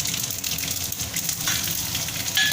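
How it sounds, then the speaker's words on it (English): Red chili frying with spluttering mustard seeds in about three spoons of oil with turmeric, a steady close sizzle with bright crackling pops, alone. "Now fry the red chili for some time"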